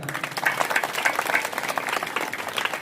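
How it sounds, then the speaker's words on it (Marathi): Audience at a kirtan honouring a local Hanuman mitra mandal, clapping in a steady, dense burst of applause that continues throughout at moderate loudness. "या मित्रमंडळाकरिता आपण एकदा जोरदार टाळ्या वाजवा."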